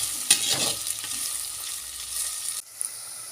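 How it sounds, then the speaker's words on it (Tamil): Small shallots sizzle in a pan for a chicken gravy, a close bright crackle with a sharp burst at the start that settles and then cuts out briefly near the end. "அதனால் இந்த வெங்காயம் போட்டு நல்லா வதங்கணும்."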